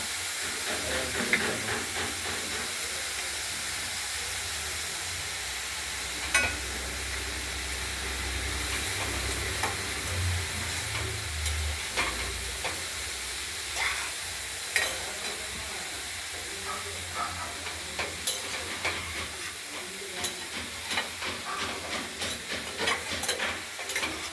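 Cabbage and potato curry being stirred in a frying pan, with a steady close hiss and sizzle, soft scraping strokes and a low rumble underneath throughout.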